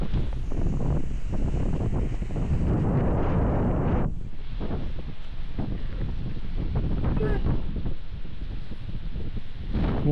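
Strong wind roaring across a high mountain highway, a loud continuous buffeting rumble that batters the microphone for the whole stretch, with brief dips in intensity.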